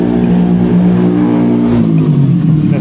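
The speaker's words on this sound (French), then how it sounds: "Là, c'est la moto." A motorcycle engine on a Bangkok street runs loud and close, a steady deep drone with a slight pitch rise and fall as it revs, heard alone without talk.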